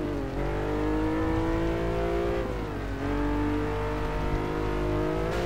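A car in Test Drive Unlimited 2 accelerating hard, its engine revving steadily upward through gear changes, loud and close throughout with no talk.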